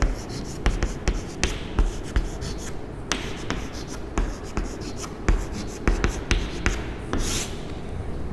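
Pen strokes writing out a determinant calculation by hand: a close, steady run of short scratchy taps and strokes with brief pauses between them, and no speech.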